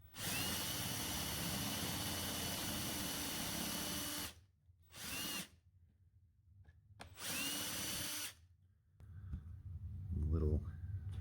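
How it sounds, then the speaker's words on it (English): A power drill bores out the back of a rivet, loud whining bursts: one long run, a brief pulse, then another long run, followed by a lower rough grinding scrape, with talking in between. "To get these rivets off is really easy. You just drill out the back of it"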